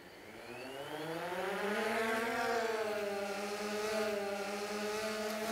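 A UAV drone's motors spin up under throttle outdoors in 10 to 15 mph wind, a steady close buzzing whine that rises in pitch and then holds, with wind noise underneath and no talk.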